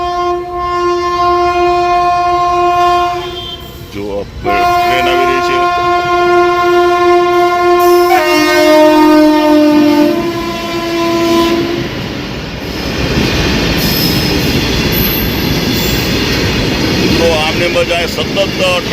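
A loud train horn blares in long sustained blasts at a railway level crossing in Wankaner, then the train rumbles and clatters past nearby, wheels clacking on the rails.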